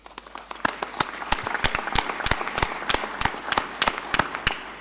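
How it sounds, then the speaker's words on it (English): Sparse clapping at a parliamentary assembly opening, a handful of distinct sharp hand claps spread irregularly across the room rather than a dense ovation. "I believe we all deserve a round of applause."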